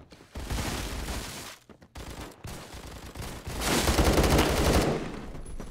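Heavy-recoil gunfire in the Phantom Forces video game on the Warehouse map: loud, sustained automatic bursts rattle close by, broken by short pauses, with a longer, louder volley near the end.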